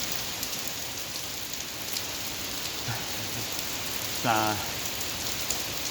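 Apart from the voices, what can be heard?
heavy rain falling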